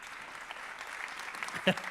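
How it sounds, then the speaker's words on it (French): An audience at an awards ceremony claps for the jury president, a fairly faint, even patter of applause with talk over it and a brief louder knock near the end. "que je vous demande d'applaudir"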